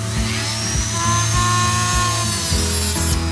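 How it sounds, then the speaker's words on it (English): Dremel rotary tool fitted with a cutoff wheel slicing through spring wire, a steady high-pitched whine with grinding, close and loud for about three seconds with no talking. "You can also use a Dremel tool with a cutoff wheel to cut larger diameter spring wire."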